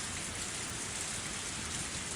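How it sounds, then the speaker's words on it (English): Steady, dense rain falls in the video game Higurashi Matsuribayashi, alone and even in level, with no voices and no thunder standing out. "It is raining."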